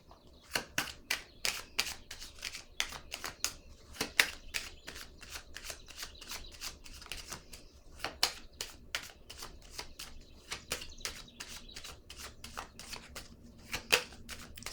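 Oracle cards are shuffled, handled and laid down, giving quick, close, crisp flicks and soft slaps that come in irregular bursts at a quiet level.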